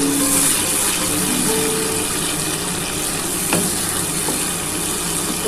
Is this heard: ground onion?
yes